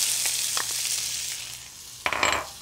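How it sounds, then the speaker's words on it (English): Pork chops sizzle loudly in a hot pan with a steady crackling hiss, then a burst of louder spattering as onions go in. "Hear that sizzle, we like that sound."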